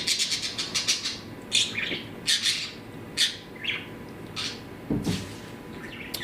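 A pet conure chirps and whistles in short rising bursts, singing along to a song, with a few squawky notes and a faint thump, close and clear with no speech.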